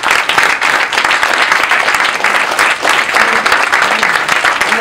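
A big round of applause from a large audience at a New York Tech Week AI event, loud and close: dense, continuous clapping that stays full and steady throughout, with a faint murmur of the crowd beneath.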